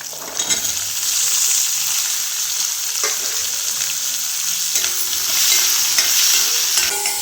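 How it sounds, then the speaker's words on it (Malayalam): Small onions frying in a pan along with curry leaves, garlic and green chili, giving a loud continuous sizzle with occasional spatula scrapes and pops, close up and without voices. "അതിൻ്റെ ഒപ്പം തന്നെ ഈ ചെറിയ ഉള്ളിയും ഇട്ട് ഇടുകയാണ് കേട്ടോ"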